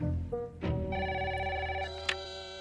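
A telephone rings in a cartoon scene, a bright electronic trilling ring that sounds steadily over a low music bed, with a short click near the end.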